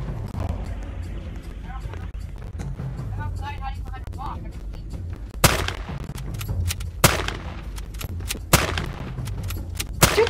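A Roblox game battle against a T-Rex: sharp, loud gunshots crack out in separate bursts over a low rumbling background, mixed with other game sounds, while players talk excitedly.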